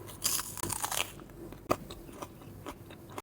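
A raw onion is bitten with a sharp crunch, followed by quiet, irregular chewing and a few soft crackles at close range, ending on a sudden loud bump.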